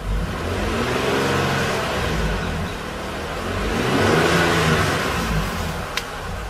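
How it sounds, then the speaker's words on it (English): A car engine revved while a diagnostic scan tool reads live engine data, the revs rising in two smooth swells with a steady mid-pitched drone throughout, close and loud with no talk. "If I rev the engine, you'll see the number go up."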